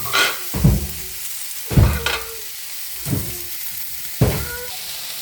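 Chopped onion and tomato stir-fry in oil on a flat dosa griddle, with four spaced scrapes of a spatula each setting off a short burst of close sizzling and clatter. No one speaks.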